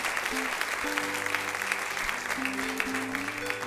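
A church congregation in Santiago, Chile applauds a brother's 78th birthday with steady, dense clapping throughout, while sustained instrument tones sound underneath.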